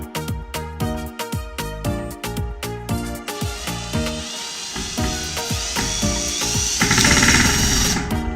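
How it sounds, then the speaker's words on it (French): A power screwdriver drives screws into wooden pallets, giving loud, close, rapid buzzing bursts that repeat in short pulses, then a longer continuous whirring run toward the end, with no talking. "c'est l'étape vissage"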